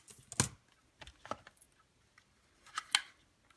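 Scissors snipping through paper for a banner craft, with a few sharp, close cuts: a pair near the start, then two more toward the end, in a quiet room.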